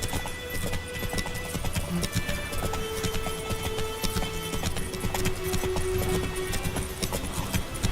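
Roach, the horse in The Witcher 3: Wild Hunt, clip-clops along at a steady walking rhythm, hoofbeats fairly close and continuous over game ambience, with no speech.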